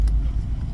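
A Jeep Renegade reversing gives a short, close, low engine rumble with steady road-vehicle noise and no talking.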